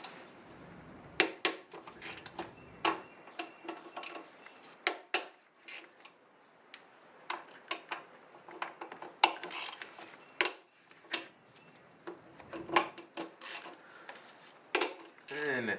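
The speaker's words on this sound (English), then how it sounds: "next thing is we have to take off these bolts." Metallic ratcheting clicks and tool clatter as bolts come off a 2009 Toyota Corolla engine, close and fairly quiet, in irregular bursts of short ticks and clunks with pauses between them.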